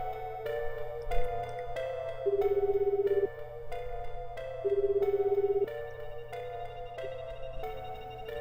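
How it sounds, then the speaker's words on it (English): Phone ringing sound effect in the visual novel game Shibuya Scramble: a repeating electronic ring tone in steady pulses with tonal bursts that switch on and off, moderately quiet and with no voices. "The phone rang several times before a sleepy voice finally answered."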